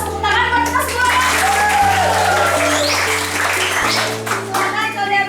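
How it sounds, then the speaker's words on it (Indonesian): A group of schoolchildren claps together in a classroom on the first day, a brisk sustained patter of many hands under a sung or chanted melody. "Tepuk tangan buat kita semua ya."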